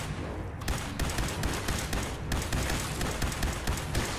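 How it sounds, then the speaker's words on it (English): Laser rifle fire in Fallout 76, aimed at a highly irradiated glowing mole: a dense, loud stream of rapid shots that runs continuously with no voices. "The thing is vicious, but I manage to take it down with my laser rifle."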